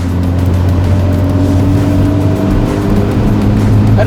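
A Mazda RX-7 GSL-SE rotary engine roars steadily at full throttle, loud and close, a sustained throaty drone with no talking.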